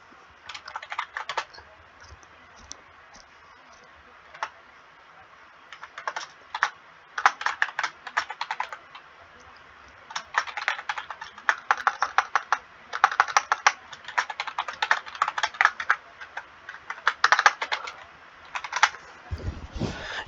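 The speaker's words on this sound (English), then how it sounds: "I'll type it out here" Rapid clattering keystrokes on a computer keyboard come in irregular bursts with short pauses, close and fairly quiet, with no one speaking.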